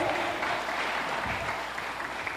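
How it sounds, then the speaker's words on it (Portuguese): Applause from a church congregation at a women's service, a steady wash of many hands clapping throughout, moderately distant and without talk. "Palmas para eles."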